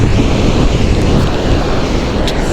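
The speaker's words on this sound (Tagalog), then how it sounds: "oh grabe oh ang laki ng alon" A steady, loud roar of ocean surf and rushing water mixed with heavy wind buffeting the microphone, continuous throughout.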